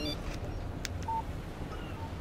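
Short electronic notification tone for an incoming text message in the video game Alan Wake, a brief chirp standing out over a low, steady game ambience.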